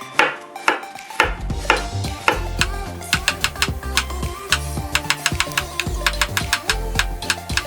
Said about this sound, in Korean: 이제 마늘을 편을 쓸 거예요